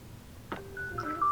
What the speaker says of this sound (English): that was my phone